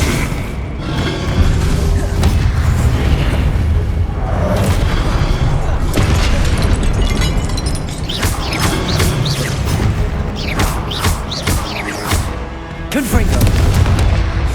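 Confringo blasting-curse explosions in Hogwarts Legacy, loud booms and crashing impacts repeated through the scene, with a voice speaking between them.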